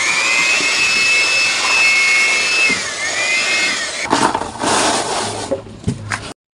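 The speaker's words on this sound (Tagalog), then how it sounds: "ginamitan pa ng blower kasi ng dami pong alikabok" A blower or air compressor nozzle blasts dust off stacked cardboard boxes in a Cebu box-making shop, a loud steady whooshing roar that shifts pitch, then breaks into choppy gusts before cutting off abruptly.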